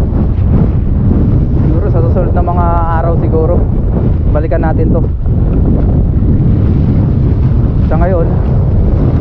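Strong wind buffets the microphone at the seashore, a loud continuous roar with rushing surf beneath, while someone talks over it throughout.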